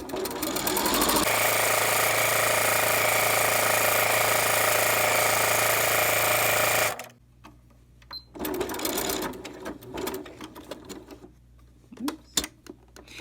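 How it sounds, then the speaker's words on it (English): Sewing machine running close and loud in one steady continuous burst of several seconds while stitching around a baby burp cloth, then stopping, followed by quiet handling of fabric and small clicks. "I am going to just sew down and around the 3 sides and then stop halfway up the 4th side"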